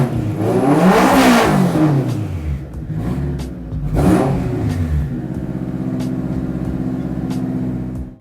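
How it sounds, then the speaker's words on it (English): A turbocharged K24-swapped Acura NSX engine revs loudly twice, each rise and fall sweeping up and down in pitch, then settles into a steady rumbling idle. "the car sounds super healthy"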